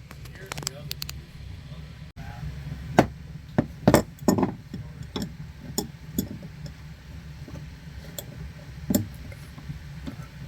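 Crescent wrench tightening hose barb fittings for freshwater and saltwater spigots at a boat helm, sparse metallic clicks and taps scattered over a quiet background, with faint talk.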